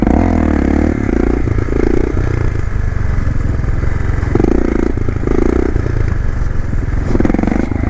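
Medium motorcycle engine revving in repeated bursts as the clutch is released and throttle blipped during a wheelie, loud and close with a steady engine drone between surges and some scraping clatter.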